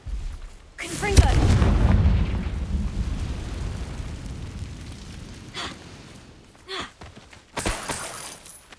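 A Confringo explosive spell blasts in the Hogwarts Legacy video game with a loud, booming burst that rolls into a long rumbling decay, followed by a few sharper crackling impacts near the end.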